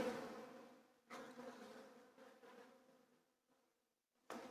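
Bees buzzing close around an autumn hive under attack by robbing bees, an irregular humming drone that swells in bursts as insects pass near and fades between them.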